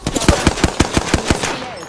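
Automatic weapon fire in the video game Apex Legends, a rapid burst of about ten loud, evenly spaced shots fired close, trailing off at the end.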